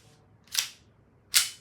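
Two sharp shots from a CO2-powered Umarex 4.5mm pistol, spaced under a second apart, each a crisp close pop with a short tail.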